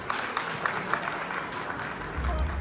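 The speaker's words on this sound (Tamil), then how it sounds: "ஸோ அவங்கள எல்லாத்தையும் ஒரு மிகப்பெரிய கைத்தட்டலோட வச்சு அவங்கள வரவேற்றுலாம் ஸ்டேஜுக்கு" Audience clapping to welcome a Thillana dance group onto the stage, a continuous crowd of hands with a few sharper claps near the front, and a voice briefly speaking over it.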